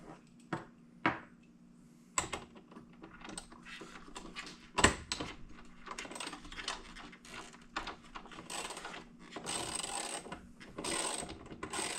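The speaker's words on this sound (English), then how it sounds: "I need that little socket to get this one out" A socket wrench works a bolt loose on a robot pool cleaner during a motor replacement, giving sharp close clicks and ratcheting bursts interspersed with clunks and handling noise, with no speech.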